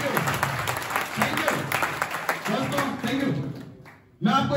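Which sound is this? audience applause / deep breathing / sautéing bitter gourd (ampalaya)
audience applause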